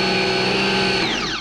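Bosch Aquatak 110 pressure washer spraying water in a garden, its nozzle twisted to a fine pinpoint jet; a loud steady motor whine holds for a second, then winds down quickly in pitch.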